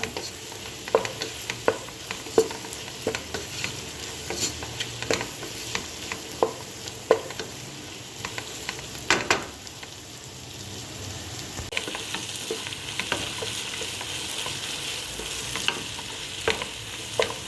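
Sliced onions sauté in a pan under a steady sizzle while a spoon stirs and scrapes them, giving repeated clacks and scrapes at an uneven rhythm over the whole stretch.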